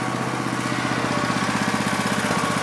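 A minibike's small engine runs steadily at close range with a fast, even putter and buzzing rasp, holding a constant pace throughout without any voices.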